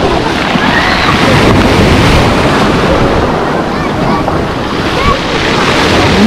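Dense, continuous wash of Black Sea waves breaking nearby on a beach at Lazarevskoye, loud and rushing, with wind noise over the microphone and no clear pauses.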